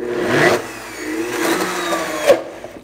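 A Blendtec blender purees roasted pumpkin with a loud, close motor whir that rises and dips unevenly as the thick mixture churns, fading out at the end.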